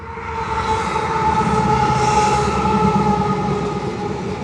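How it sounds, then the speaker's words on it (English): A train rumbles past close by, a loud, steady roar of rolling wheels and rail clatter with faint metallic tones, and nobody speaking. "We got a train coming, guys."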